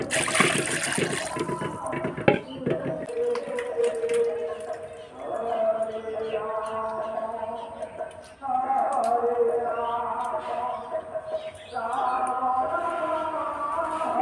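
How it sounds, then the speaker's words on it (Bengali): Raw river fish with large scales being rinsed in water in a home kitchen: a brief burst of splashing and running water at the start, then someone talks over faint handling sounds. "চলো মাছটা ধুয়ে নিই"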